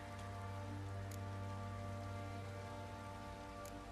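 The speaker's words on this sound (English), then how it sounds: "Oh, it's drizzly." Light rain patters steadily in the video game The Witcher 3, a continuous soft hiss of drops on surfaces over a constant low ambient drone, with no voices.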